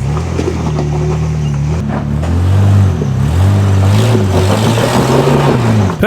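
A big Nissan GU 4x4 engine revs hard as it climbs a wheel-lift obstacle, a loud close rumble that swells and dips through throttle blips and holds a sustained pull.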